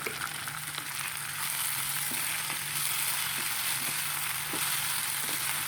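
Kenaf leaves and chicken fry in a pan for a Bodo dish, a continuous close hiss with faint crackles and occasional soft ticks of stirring, no voices.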